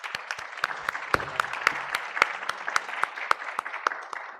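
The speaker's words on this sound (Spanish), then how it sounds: "Un aplauso para el doctor Miguel Yusti." A seated audience at an academic panel on refugees and migrants applauds a closing speaker, a few seconds of sparse, distinct hand claps in an irregular rhythm, fairly close and clear.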